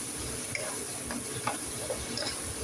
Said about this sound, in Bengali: ভালো করে নাড়াচাড়া করতে দিলাম।